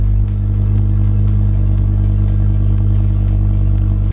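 A modified Ford Focus ST with Mountune performance upgrades idles close by after a service with fresh spark plugs, a loud, steady low engine hum with even pulsing and no revving.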